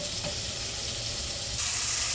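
Cauliflower pieces soaked in turmeric hit hot tempering oil in a pan of softened tomato curry, giving a steady close sizzle and fry that grows louder and brighter near the end, with no one talking.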